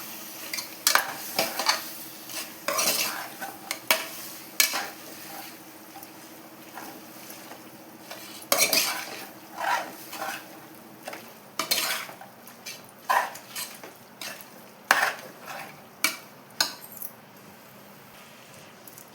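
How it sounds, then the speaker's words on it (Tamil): Spoon scraping and clinking inside a pot as a chicken biryani mixture is stirred, giving irregular close knocks and scrapes spaced through a quiet kitchen. "இப்போ இதை நல்லா கலந்து விட்டுக்கலாங்க."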